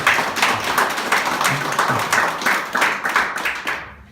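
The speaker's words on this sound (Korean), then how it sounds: "박수로, 뜨거운 박수로." At the Chun Tae-il Foundation's 2015 general meeting, an assembly claps in a steady, rhythmic beat. The loud, unison claps continue for about four seconds before stopping abruptly.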